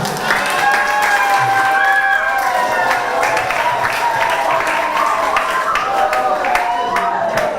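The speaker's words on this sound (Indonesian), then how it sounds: "tepuk tangan untuk teman-teman semua" Seminar audience at an education session applauds steadily after a presentation, dense clapping with some cheering, while voices continue over the top throughout.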